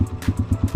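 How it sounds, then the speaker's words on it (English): Motorcycle engine cranking on its electric starter, a rapid run of rhythmic chugging pulses close by, about six beats in under a second. "this button right here is gonna turn the engine over."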